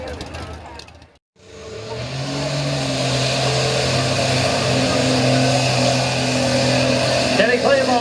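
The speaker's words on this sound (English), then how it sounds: "that is a small block Chevy doing the horsepower" A small block Chevy V8 in a 1984 Chevy-powered Toyota mud bog truck cuts out briefly, then roars back loud and sustained at high revs across a dirt track.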